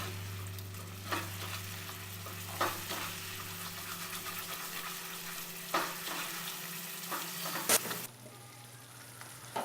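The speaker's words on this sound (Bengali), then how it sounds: "একটু ভালো করে কষে নেব।" Spice masala for Bengali-style doi chingri (prawn curry with yogurt) fries in a pan with a soft, steady sizzle, while a spoon scrapes and stirs it in occasional sharp strokes. The sound is fairly quiet and close, with no talking.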